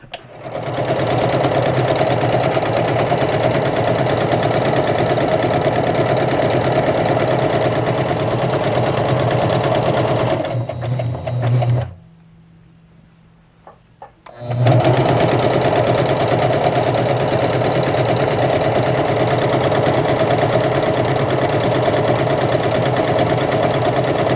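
A Juki HZL-K85 sewing machine stitches circle pattern 43 in a loud, steady mechanical whir, stopping briefly midway before resuming at full pace.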